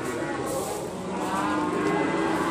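A Tasik crossbreed cow at a cattle sale gives one long, low, sustained moo that holds close and loud across the whole stretch, with no one talking.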